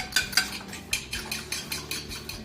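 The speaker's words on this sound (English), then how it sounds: "So I'm going to give them a little whisk with a fork." A dinner fork whisks eggs in a bowl, making a quick series of light clinking taps, roughly eight strokes in an irregular rhythm, close and fairly quiet.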